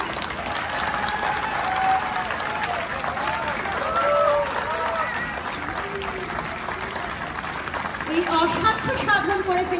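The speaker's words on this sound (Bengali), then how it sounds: "একটা জোরে হাততালি।" Audience applause rings out after a drama performance at a community stage show, a steady wash of clapping and crowd noise lasting throughout, with voices talking over it and a louder swell near the end.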